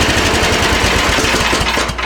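Snapper snowblower engine idling a little low after servicing, a loud, close, steady small-engine putter with fast even pulsing that dips slightly near the end.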